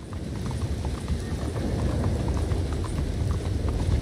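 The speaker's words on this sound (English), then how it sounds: "And now it's raining on us." Steady rainfall patters continuously on a surface in the video game Red Dead Redemption 2, a dense, even hiss of droplets with no voices.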